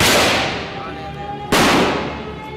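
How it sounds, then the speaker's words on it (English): Two sharp, loud blasts about a second and a half apart, each decaying into a rumbling tail. "16 explosions rocked the Indian city of Ahmedabad."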